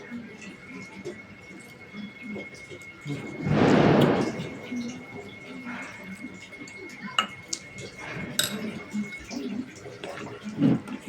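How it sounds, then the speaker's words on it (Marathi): Water poured from a small glass into a pot of khichdi rice makes a brief splashing rush of about a second, set against light ticking and clattering room noise before and after. "थोडंसं त्यात पाणी टाकतो आता छोट छोट्याशा ग्लासमधून"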